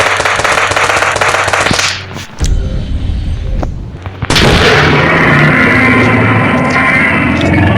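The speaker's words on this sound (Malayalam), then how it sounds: "നമ്മൾ വെടി വെച്ചാൽ" Firecrackers burst in loud, rapid chains outdoors. A dense crackling run breaks off, a few isolated bangs follow, and then another long, fierce volley starts up.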